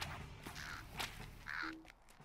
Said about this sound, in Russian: Вороны, где же вы, черные?